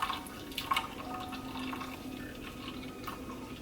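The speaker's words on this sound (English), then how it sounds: "you can hear it straining through to the bowl" Fruit juice strains through a mesh strainer into a bowl after being pushed down with a ladle, a soft, steady trickle and drip heard close and quiet, with no talking.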